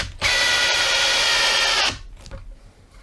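A Makita DTP141Z cordless four-mode impact driver whines in one loud, steady burst of a bit under two seconds, then cuts off sharply, leaving a few faint clicks and handling noises.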